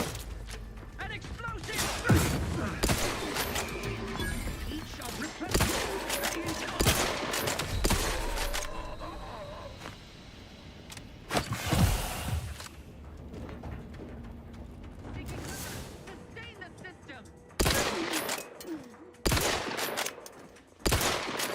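Musket volleys crackle through a Total War fantasy battle with Mannfred's undead army, bursts of gunfire arriving in clustered waves with sharp gaps between, loud and mid-distance over a busy battlefield din, with a voice talking at times.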